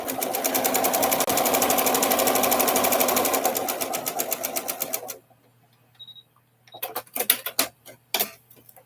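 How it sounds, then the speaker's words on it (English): A sewing machine stitches a gradient quilt piece in a steady, rapid run for about five seconds, then stops, leaving a few short clicks and fabric handling sounds nearby. "we are going to sew this other one that is a gradient"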